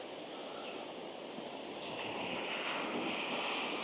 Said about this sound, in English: Just as these waves are coming in nice and close here, look.